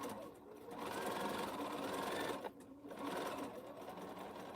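A sewing machine stitches a diagonal seam through a batik quilt, running in steady close bursts with one brief pause partway through, fairly quiet with no talking.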